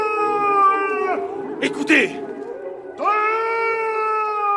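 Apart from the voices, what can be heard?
wolf howling, audiobook sound effect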